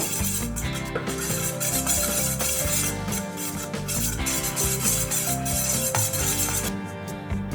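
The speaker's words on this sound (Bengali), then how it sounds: "তেলের সাথে প্রথমে এই মশলাটাকে একবার খুব ভালোভাবে মিশিয়ে নেব" Chili flakes and regular chili powder being stirred into oil with a spoon in a pan, a steady scraping and rubbing with light metallic clinks, no voices, moderately close.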